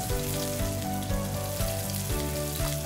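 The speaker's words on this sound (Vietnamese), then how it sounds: "mình nấu chung với lại cá cho tới khi mà nước sốt của mình nó kẹo dần" Salmon simmering in teriyaki sauce in a pan, a steady close bubbling sizzle with a gentle pulsing rhythm and no talk over it.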